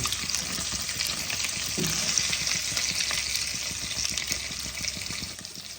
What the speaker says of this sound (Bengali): মাছ আমার ফ্রাই হচ্ছে।